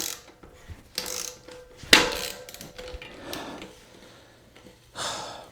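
Bolt extraction kit working a stripped through axle loose on a bike, giving scattered mechanical clicks and ratcheting creaks with one sharp crack near the middle, close and fairly quiet, with no talking.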